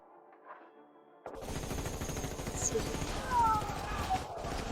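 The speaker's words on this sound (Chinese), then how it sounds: "开枪！" Modern weapons fire in a fantasy drama battle scene, opening as a sudden loud burst of rapid shots after a quiet stretch and continuing as a dense, sustained volley with shouting voices mixed in.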